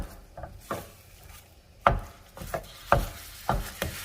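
Several scattered scraping knocks of a utensil breaking apart ground beef in a pan, irregular and close, with short pauses between strokes.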